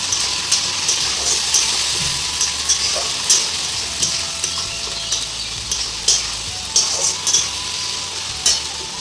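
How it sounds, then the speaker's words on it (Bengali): Onions and spices fry for a chicken curry, a steady dense sizzle running throughout with frequent sharp scrapes and clicks of stirring in the pan, close and fairly loud, no voices. "পেঁয়াজগুলো ভাজা হয়ে গেছে, এবার মশলাটা দিয়ে দেবো।"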